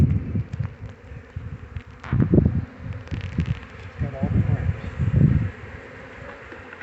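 Honeybees buzzing around an opened hive during a spring hive check, a steady insect drone with swells as the bees fly close, while people talk nearby and handle frames.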